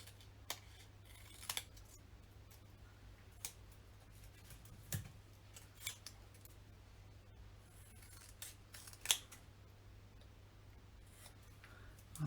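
Scissors cutting a word out of hot pink card: faint, sparse snips and light rubbing clicks scattered over a quiet background with a low hum, close and without talk.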